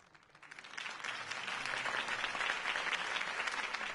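Crowd applause in the Batman Telltale video game swells after a campaign speech, rising quickly from quiet into a thick, sustained roar of many hands clapping, steady and fairly distant.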